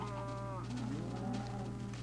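Cattle on a drive in a crafting video game give low, faint moos beneath a steady low hum, mixed with soft bird-like cooing.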